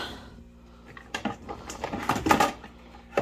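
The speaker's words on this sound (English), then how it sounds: "So I'm going to grab a bowl." Someone pulls a mixing bowl from a stack in a home kitchen, making a run of light clattering knocks and scrapes of dishware that grow busier toward the end.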